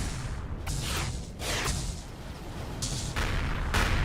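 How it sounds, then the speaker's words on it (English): Artillery cannons fire in the space combat game Empyrion Galactic Survival, a series of distant booming blasts with airy whooshing tails that come every second or so at moderate, fairly soft loudness. "That's a lot of artillery."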